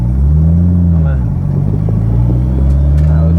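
A Nissan GT-R engine drones loudly and close, rising and dipping in pitch as the gears change, with someone talking over the steady rumble.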